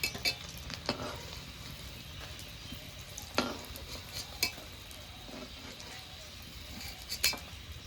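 Fish roe cutlets fry quietly in a pan, a soft continuous sizzle broken by occasional clinks and scrapes of a utensil against the pan.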